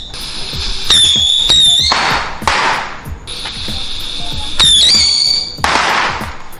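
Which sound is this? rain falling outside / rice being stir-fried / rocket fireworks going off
rocket fireworks going off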